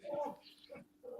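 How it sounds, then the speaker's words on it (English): A house cat gives short bark-like calls, one strong burst then two softer ones, fairly close and moderately loud with a low hum behind. "Let's see what kind of bark that is."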